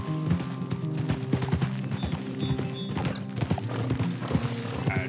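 Horse hooves clip-clopping in Red Dead Redemption 2, a steady run of hoof strikes close by with a brief whinny, riding into a camp, no talk over it.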